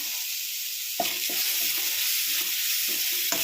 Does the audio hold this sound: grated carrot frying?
yes